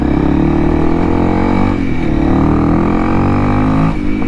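A Honda CRF 300L motorcycle with a tuned ECU accelerating, its engine roaring loud and close in a steady, continuous drone with rising harmonics.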